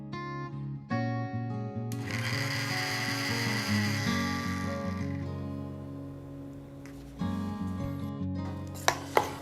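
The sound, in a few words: mixer grinder grinding roasted whole spices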